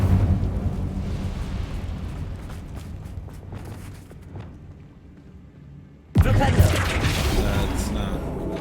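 Incendio fire spell in a wizarding video game, a sudden loud fiery burst erupting after a quieter rumbling stretch, followed by sustained crackling roar.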